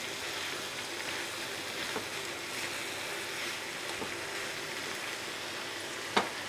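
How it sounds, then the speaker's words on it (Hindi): Bottle gourd with soybean fries in a covered pan over a low flame, a soft, continuous sizzle heard up close, with a single sharp click near the end. "5 मिनट हो गए हमें लौकी को ढक के भूनते हुए"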